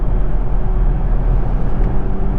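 A Nissan Z Performance Edition taking an on-ramp, a loud steady engine drone with deep road rumble, close and unbroken, with a faint rise in pitch partway through.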